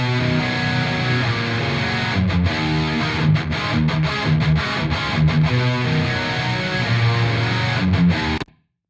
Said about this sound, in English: on the rhythm sounds, I have a room reverb